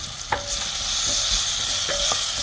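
Onions sauté with asafoetida in a pan, giving a steady, close sizzle with a couple of light utensil clinks while stirring, and no voices.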